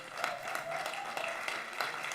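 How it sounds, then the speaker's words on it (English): Audience clapping at a youth ambassadors' livestreamed session, fairly quiet and steady with a few sharper individual claps and faint voices underneath. "A round of applause, everybody."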